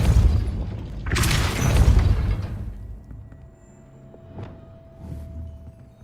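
A Depulso force spell from the Hogwarts Legacy video game fires with a loud booming burst near the start, then fades into quieter rumbling impacts and small pops, with no talking.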